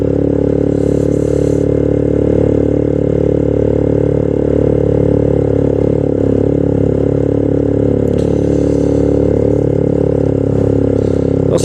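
A heavily loaded motorcycle climbs in first gear on a mountain road toward Thandiani, its engine droning steady and loud up close with faint clatter and wind noise.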